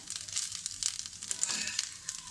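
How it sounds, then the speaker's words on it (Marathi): Dry coconut sautéing and roasting in a pan for a Malvani clam curry, giving a soft, steady sizzle with light crackles and occasional stirring scrapes, close by with no talking. "2-3 मिनटं त्यालाही परतून घ्यायचं आहे, कारण ते पटकन भाजलं जातं"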